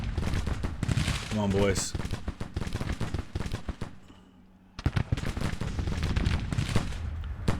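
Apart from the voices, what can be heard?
musket volley gunfire in Grand Tactician: the Civil War video game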